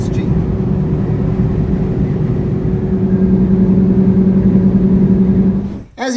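A Jeep Gladiator with a compact muffler idles and runs steadily, its engine and exhaust giving a continuous low drone with a rising tone midway before it cuts off abruptly; speech may be present.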